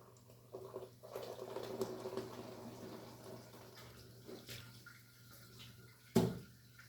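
Boiled soybeans are rinsed in water, giving faint sloshing and swishing with a few soft clatters and one louder splash near the end, heard close and quiet against a low background hum.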